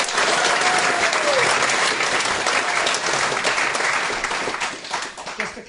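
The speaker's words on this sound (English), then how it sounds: "a big round of applause for them" Audience applause at a book launch event in Wellington rolls on as dense, steady clapping from a sizeable crowd, thinning slightly toward the end.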